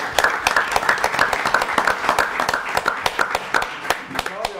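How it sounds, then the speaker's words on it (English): At a Goldsboro city council meeting, a room of people claps in a round of applause for city workers, close, crisp individual claps forming an uneven, lively rhythm with some voices underneath. "just a round of applause, because this is your city right here"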